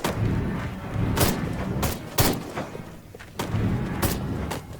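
Explosion of a nuclear device in the video game Destroy All Humans!, a series of heavy booming blasts and thuds with sharp bursts recurring roughly every second over a continuous rumbling background.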